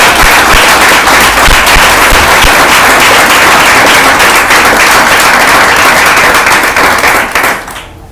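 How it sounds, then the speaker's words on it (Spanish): A church congregation breaking into loud, dense applause, sustained clapping that fills the room for several seconds before tapering off at the end. "¿Puedes darle otro aplauso a Dios?"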